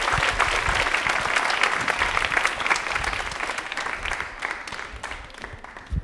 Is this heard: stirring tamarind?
no